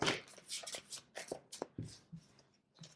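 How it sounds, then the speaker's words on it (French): Tarot cards being shuffled by hand, a close, soft series of riffling and flicking bursts in an irregular rhythm, fairly quiet with no talking. "Allez, on va mélanger encore un petit peu."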